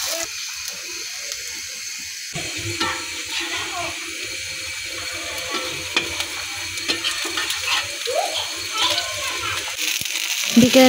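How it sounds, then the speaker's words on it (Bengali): Sweet pumpkin flowers coated in gram-flour batter fry in hot oil, giving a steady, close sizzle broken by light clinks and stirring, with brief voices in the background. "এখন মিষ্টি কুমড়া ফুলগুলো ভেজে নিচ্ছি"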